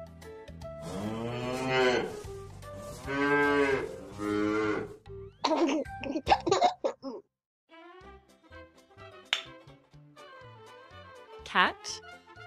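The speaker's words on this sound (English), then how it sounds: "Cow." A cow lets out three long, loud moos, followed by quieter snorts and shuffling noises nearby.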